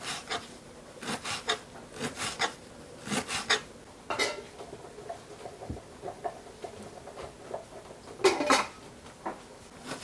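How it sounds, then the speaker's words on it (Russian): A knife chops fresh dill on a cutting board for a jarred salad made in a village kitchen, giving close, irregular bursts of sharp cuts and scraping knocks with short pauses between them. "Так, теперь режем укроп. Ну, вот так примерно. Не очень мелко."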